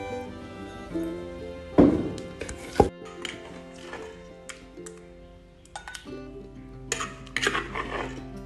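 Fresh tomatoes are pounded by hand, with a few dull thuds and clinks of the pestle against the bowl, sparse and close, with quiet pauses between strikes.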